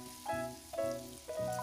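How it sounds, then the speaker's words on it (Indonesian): Cut banana pieces drop into hot oil for frying, each landing with a soft thud and a bright sizzle, three in steady succession over a constant close crackle, no talk. "akan saya menggoreng pisang-pisang yang sudah saya potong-potong tadi ya Bunda."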